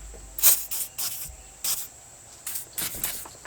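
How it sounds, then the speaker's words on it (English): Seafoam Deep Creep penetrating oil sprayed onto a sway bar link nut and bolt on a 2005-2009 Subaru Outback, heard as several short, sharp aerosol hisses in quick bursts with brief pauses between them. "We are using the Deep Creep by Seafoam. We'll go ahead and spray the other side"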